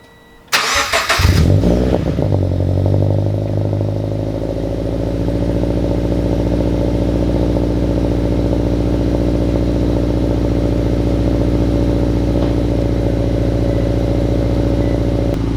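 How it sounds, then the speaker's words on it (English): A catless-exhaust Subaru BRZ fires up from cold with a sharp cranking burst, then settles into a loud, steady, rumbling idle that holds close and alone for the rest of the clip. "we'll just do a real cold start now, and then I'll try to get some little revving clips."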